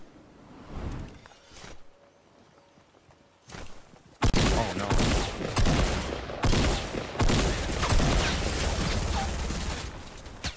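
Gunfire rattles in a Fortnite Battle Royale duo match, sporadic shots early, then dense loud volleys of rapid fire and impacts after a quiet stretch, with occasional player voices.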